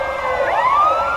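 Wailing sirens of arriving ambulances and fire engines after an accident, loud and close, with overlapping rising tones and no voices.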